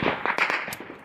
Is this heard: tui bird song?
no